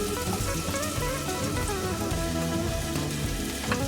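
Finely chopped onion sizzles steadily in hot ghee in a pan for a Mangalorean prawn ghee roast, a dense, even crackle that stays moderately loud throughout with no voices.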